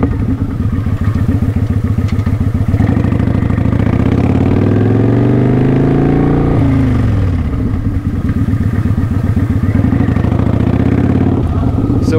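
A motorcycle accelerating to about 20 mph, its engine loud and close with rising then falling revs over a steady rumble, while a voice talks over it.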